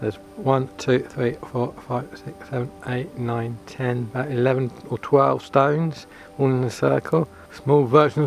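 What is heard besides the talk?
No distinct noise like a dog, phone or traffic.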